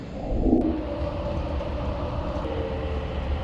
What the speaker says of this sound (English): These trains are super fast